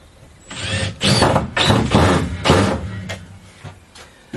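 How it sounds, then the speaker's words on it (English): Screws are driven into a homemade trunk built from junk, with several bursts of whirring, ratcheting driver noise separated by short pauses, loud and close. "we've started on the first side and we're just getting the last couple of screws in"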